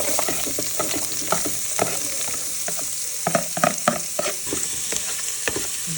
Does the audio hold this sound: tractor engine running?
no